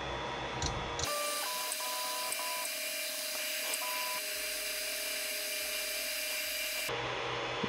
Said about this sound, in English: The leveling on this printer is so slow.